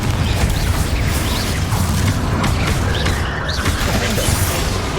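Repeated Confringo explosive spells in Hogwarts Legacy, a dense run of booming blasts and crackling bursts layered with game effects, loud and continuous with no talking.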